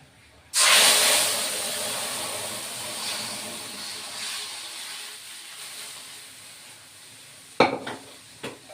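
Food going into a hot wok for a vegetarian masoor-style dal with bay leaf, a sudden loud hiss and sizzle that slowly fades, followed by a couple of sharp utensil knocks near the end.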